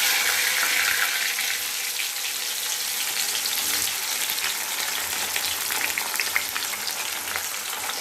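Cumin seeds, garlic cloves and tomatoes fry in a pan with a continuous, bright sizzle that crackles on without pause, alone and without speech.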